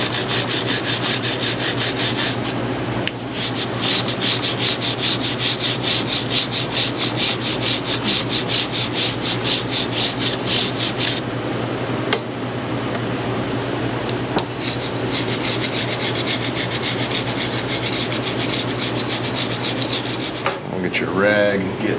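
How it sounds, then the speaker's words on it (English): A grimy motorcycle chain being scrubbed with a brush after it is soaked in cleaner, with steady, loud, continuous bristle scrubbing up close, a couple of short pauses and no talking. "saturate that, and we're gonna scrub it a little bit"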